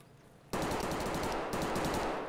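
Automatic gunfire in the video game Escape From Tarkov: a loud, sustained rapid burst starts abruptly about half a second in and runs without pause to the end, with a brief dip and renewed burst partway through.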